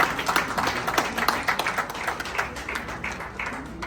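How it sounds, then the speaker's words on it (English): Scattered clapping from a modest audience, moderately loud at first and gradually thinning out over a few seconds. "Shall we do a big round of applause for them?"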